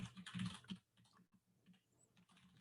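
Someone is typing on a computer keyboard, with a quick burst of close key clicks followed by sparser, quieter taps.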